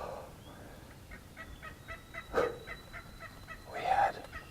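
A wild turkey hen clucks in a quick repeated series at moderate distance, heard from a hunting blind, with two louder calls breaking out over a quiet outdoor background.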